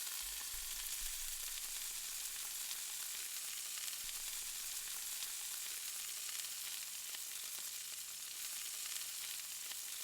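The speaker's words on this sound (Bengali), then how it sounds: "একটা হাঁড়িতে ঢেলে নিয়ে মাংসটা ধীরে ধীরে কষানো হচ্ছিল" Chicken pieces being slowly fried and stirred in a large pot for biryani give a steady, continuous sizzle with faint scraping throughout, alone with no talking.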